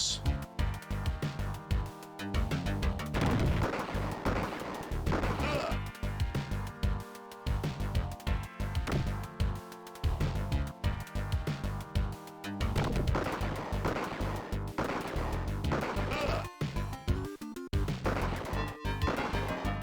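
Gunfire in the James Bond 007: The Duel video game, repeated sharp shots and impacts in irregular bursts over game music, loud and close throughout.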